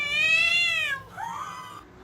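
A golden cat gives a clear, close meow with a bright drawn-out start, then a shorter, lower second call, with no talking.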